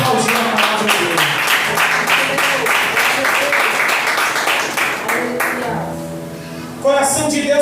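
A church congregation applauds in a loud, sustained burst of clapping over a sermon, with a voice speaking and musical tones carrying through, the clapping thinning toward the end before a fresh loud swell.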